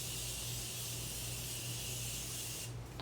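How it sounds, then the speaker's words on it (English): A steady, close hiss of Morphe makeup setting spray held for nearly three seconds before stopping abruptly. "I'm just going to use a little bit of my Morphe setting spray."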